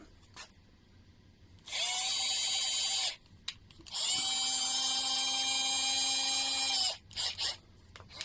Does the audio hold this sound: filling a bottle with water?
no